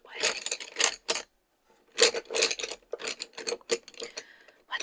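Colored pencils rattle and clatter against each other as they are sifted through in their box, a series of close, bursty wooden clicks and shuffles with brief pauses between handfuls.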